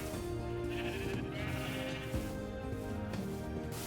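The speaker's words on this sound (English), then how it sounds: "Time to wrangle all these sheep over." Sheep in Minecraft bleat in overlapping calls from a flock, several wavering baas running throughout alongside steady game background sound.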